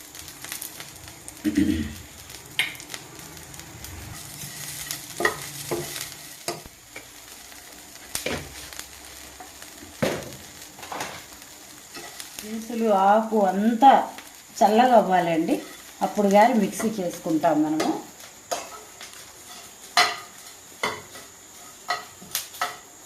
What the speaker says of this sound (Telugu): ఆకులో ఉప్పు కూడా వేసేసి వేయించుతున్నానండి